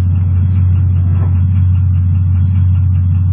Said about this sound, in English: We'll leave the engine running, we'll be needing it for our way back